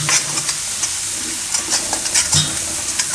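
Turmeric, coriander-cumin powder and red chili sizzle in hot oil in a pan for Gujarati tomato rice, a steady crackling hiss with scraping stirring strokes close by.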